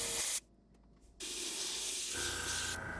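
An airbrush spraying paint into the robe folds of a half-scale Tusken Raider model bust, bursts of close, loud steady hiss with a brief pause between sprays.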